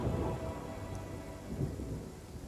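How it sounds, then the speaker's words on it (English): Thunder and lightning strike during a storm in the Pathfinder: Kingmaker video game, heard as a low rolling rumble over continuous hissing rain, steady with a slight swell, and no voices. "The villager is interrupted by a deafening clap of thunder as a bolt of lightning cracks down and scorches the huge tree"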